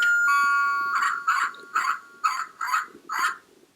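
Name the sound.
Lego City toy house dog barking sound effect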